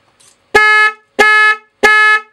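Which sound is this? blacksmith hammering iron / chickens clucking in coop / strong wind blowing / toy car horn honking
toy car horn honking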